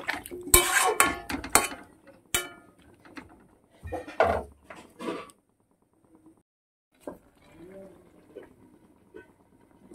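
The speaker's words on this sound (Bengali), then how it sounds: "এই সামান্য জল দিয়ে ঢাকনা দিয়ে দেবো" A lid is set onto a cooking pot of prawns and pumpkin with a little water, making a burst of close metallic clatters and knocks, then quieter scattered clinks with a voice faintly in the background.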